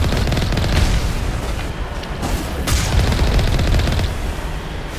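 Rapid turret gunfire in the Mass Effect video game, a dense rattling barrage of shots with booming impacts, loud and continuous with a brief dip in the middle.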